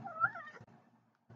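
A held cat lets out one drawn-out complaining meow up close, followed by a quieter trailing murmur and brief rustling, with no talking.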